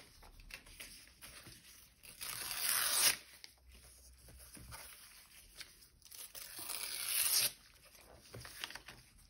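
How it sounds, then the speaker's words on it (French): A paper page from a magazine is torn for a children's collage, giving two drawn-out ripping bursts with quiet rustling and handling between them. "Donc, je déchire la page."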